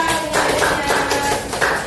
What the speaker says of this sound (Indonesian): tepuk tangan buat Arlita